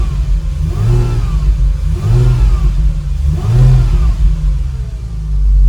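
A Porsche 997.2 sports car engine revs with its sport exhaust valve switched on, three rising blips of throttle over a rumbling idle, close and loud.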